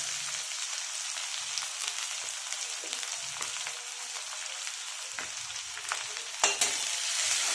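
Chopped onion with curry leaves sizzles in hot oil in a pan for an okra stir-fry, a loud, continuous hiss close by, broken by occasional stirring clatters.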